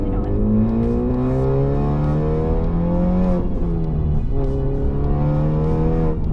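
A Honda Civic Type R engine under light throttle gives a close, steady, harmonic drone that climbs and dips slightly in pitch as the car pulls along, with continuous road noise underneath.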